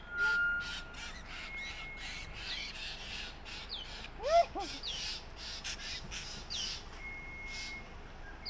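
Agitated parent birds calling nearby with repeated harsh, crow-like caws and squawks, steady and fairly faint throughout.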